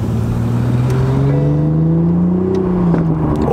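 An all-black Audi R8 engine drones steadily from inside the car as its exhaust note slowly climbs in pitch, loud and continuous with no talking.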